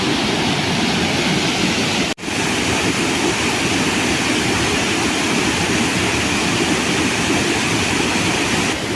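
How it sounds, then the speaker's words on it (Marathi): Loud, continuous roar of a flooded river rushing after heavy rain, broad and steady throughout, with one brief dropout near the start. "तुम्ही पाणी बघू शकता किती जोरात आलं नदीला"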